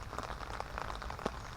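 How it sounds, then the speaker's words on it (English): Rain drums steadily on a fishing umbrella during winter fishing, a dense close patter with occasional louder drops and no talk. "All you can hear is the rain and the umbrella."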